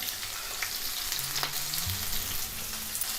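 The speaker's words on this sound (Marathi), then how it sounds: "कांदा मस्त लाल तांबूस रंगाचा होईपर्यंत आपल्याला परतून घ्यायचा आहे" Onion and garlic sizzle steadily in hot oil in a pan while cooking for a radish bhaji, a continuous soft frying hiss with occasional faint stirring clinks and no talking.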